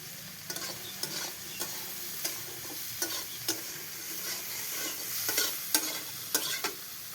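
Spatula scrapes and clacks against a pan in uneven strokes while onion-flavoured oil sizzles steadily underneath, with no talking.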